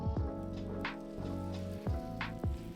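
A tortilla laid into melted butter in a hot skillet sizzles with a soft, steady crackle, interrupted by a few clanking knocks of pan and utensils.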